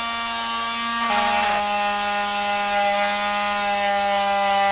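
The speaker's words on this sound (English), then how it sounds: "you take your sander and start hitting all the sides of the star" A battery-powered lithium-ion sander works along the edges of a cut-out wooden star, giving a steady, close, high motor whine that shifts pitch slightly about a second in and then holds alone with no talking.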